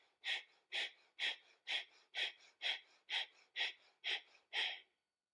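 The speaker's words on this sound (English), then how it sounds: "And the breath is the breath of fire." Breath of fire in Kundalini yoga, a run of about eleven sharp, pumping nasal exhalations driven by the belly, evenly spaced and close, each a breathy snort, ending in silence.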